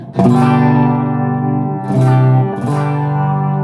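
Three strummed chords on a cheap modified electric guitar ring out through an amplifier, each sustaining with a washy reverb tail before the next strike.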